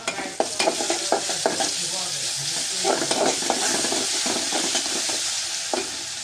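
Panch phoron spices sizzle steadily in hot oil for a dal of unboiled potatoes, a loud continuous hiss broken by the scrape and clink of a stirring utensil, with no voice.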